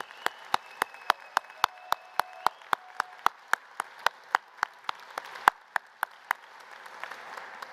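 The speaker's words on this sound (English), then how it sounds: "Give yourselves a massive round of applause once again to staff, everyone here" Graduation ceremony audience at Roehampton applauding, heard as a steady run of distinct, evenly spaced loud claps, like one nearby pair of hands, over a soft wash of wider crowd clapping.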